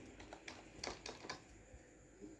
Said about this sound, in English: you just type in